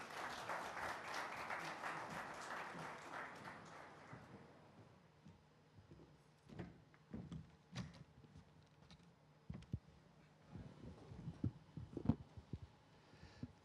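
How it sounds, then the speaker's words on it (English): Conference audience applauding at a sustainability conclave: a few seconds of crowd clapping that fades out, followed by scattered handling knocks and thumps in a quiet room. "A huge round of applause,"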